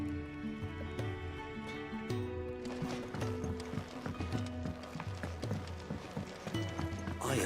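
Horse hooves clip-clop in a steady running rhythm within the Final Fantasy XVI video game, close and clear over a layered background of music and ambience, with no talk.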